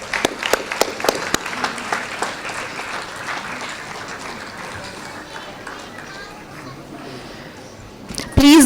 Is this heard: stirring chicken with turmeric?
no